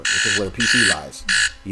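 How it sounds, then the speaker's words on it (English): An electronic alarm beeps in three loud, sustained pulses, alternating with a person talking. "that's what that alarm is right there."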